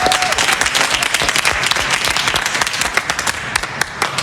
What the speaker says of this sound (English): let's give them a big round of applause for their second win